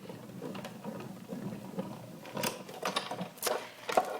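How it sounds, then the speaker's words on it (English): An embossing folder sandwiched between cutting pads is cranked through a manual die-cutting machine, giving a soft, uneven run of mechanical clicks and ratcheting rumbles that build toward the end. "I open both tabs and crank that through"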